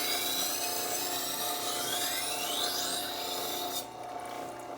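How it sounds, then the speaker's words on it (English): Chef's knife drawn across a wet sharpening stone, a steady near rasping scrape with a rising whine partway through, easing off abruptly near the end. "It's always fun to sharpen when you have a curious little boy hanging out with you."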